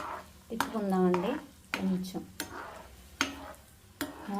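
Tempering spices and dried red chillies are stirred in hot oil in a pan, giving soft scraping and clinking strokes with a faint sizzle beneath, while a person talks over much of it.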